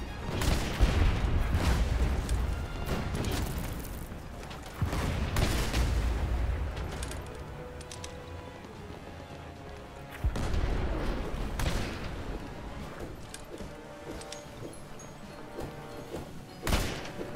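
Cannon fire in the pirate ship game Blazing Sails booms out in heavy repeated blasts, several deep thuds spaced a few seconds apart over a rumbling battle din, loud and close.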